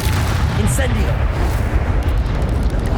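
A loud Incendio fire spell in Hogwarts Legacy bursts out as a continuous roaring, rumbling blast of flame that lasts throughout, with a voice over it.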